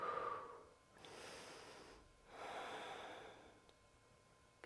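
Slow, deep breathing during a side-bending yoga pose with an arm raised, soft inhales and exhales rising and falling in long swells, close and quiet with no talking.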